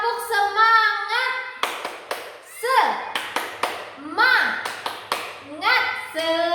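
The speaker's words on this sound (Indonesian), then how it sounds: "Tepuk semangat." A Grade 3 elementary class claps a rhythmic patterned chant, sharp group handclaps in short sets alternating with children's chanted voices, close and lively in a classroom.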